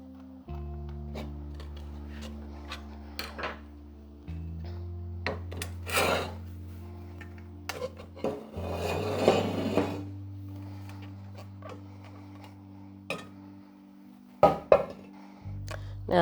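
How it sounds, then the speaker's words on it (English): Plaster mold bolted around a wax sculpture is taken apart, giving scattered scraping, rubbing and knocking sounds with a low hum underneath, mostly quiet with a few sharp louder bursts. "Okay, so now I'm going to take the plaster off."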